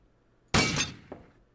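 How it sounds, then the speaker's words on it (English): A porcelain mask shatters in a video game, a sudden loud breaking crash with a bright glassy, tinkling shatter, followed by a smaller clink of a falling fragment as the debris settles. "it's supposed to be like the porcelain is breaking, not so much glass, but it does have a glass shattery sound effect"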